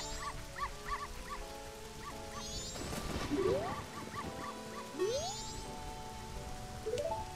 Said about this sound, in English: Now that's the dog with an indomitable spirit.